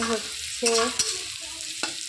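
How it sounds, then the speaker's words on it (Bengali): Bitter gourd stirred in hot frying oil: a steady sizzle runs throughout, broken by a few distinct scrapes and clacks of the spatula, close and fairly loud, with no talk. "নেড়ে চেড়ে ভেজে নিচ্ছি।"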